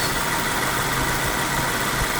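A 2023 Subaru Forester engine idles steadily and evenly with a dense, constant broadband hum and no change in rhythm, heard alone without any voices.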